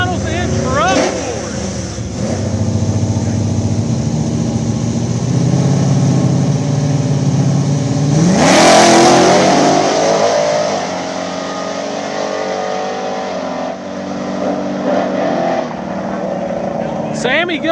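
Drag racing trucks rev and launch hard in a Truck Wars semifinal, a loud sustained engine roar that surges to a sharp peak midway and then tapers. Background voices sit underneath.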